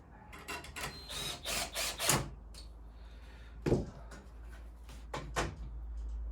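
A fastener is screwed into a new window frame in an old house, heard as a series of short, close mechanical bursts and clicks separated by brief quiet gaps.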